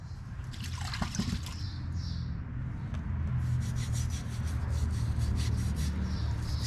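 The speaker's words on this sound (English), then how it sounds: "just dipping the brush down in the bucket and just scrubbing the dried grease out of there" Stiff brush scrubbing dried grease out of disc opener parts from a John Deere 750 drill, dipped in a bucket of liquid, giving continuous wet rubbing and swishing strokes up close, rhythmic in the second half.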